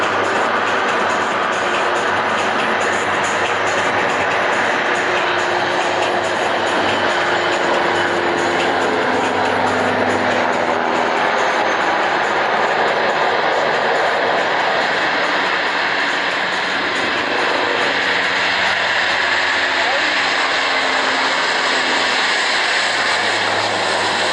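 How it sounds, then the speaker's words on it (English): A KC-30 air refueling tanker takes off at an RAAF airshow display, its jet engines making a loud, steady broadband roar that fills the whole stretch without letup. "What a spectacular takeoff by the KC-30 airwear refueling tanker."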